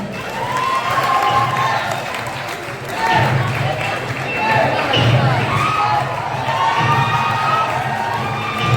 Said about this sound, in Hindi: तो चलिए तालियों के साथ स्वागत कीजिए